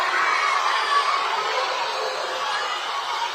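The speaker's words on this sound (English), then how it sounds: "And people are booing because they're pulling the flag up." A large crowd at a Bernie Sanders rally boos and murmurs in a steady, distant roar of many voices that holds without a break.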